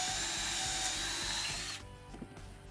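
A cordless drill whirs steadily at close range for nearly two seconds, then cuts off, leaving quieter handling noises and small knocks, during bedroom construction in a converted bus.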